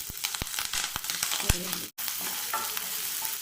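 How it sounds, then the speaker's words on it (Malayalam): Ginger, garlic, green chili and onion sauté in hot coconut oil after mustard seeds pop, a close, steady sizzle broken by stirring scrapes and a brief moment of silence. "കടുക് പൊട്ടി വരുമ്പോൾ ഇതിലേക്ക് ഇഞ്ചി വെളുത്തുള്ളി പച്ചമുളക് സവാള ഇതെല്ലാം കൂടി ഇട്ടൊന്ന് നന്നായി വഴക്കിയെടുക്കണം"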